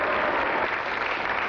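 Brief burst of steady audience applause for a sheriff on stage at a special evening event, many hands clapping evenly with no voices over it.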